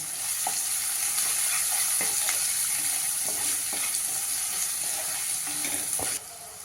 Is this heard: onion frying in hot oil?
yes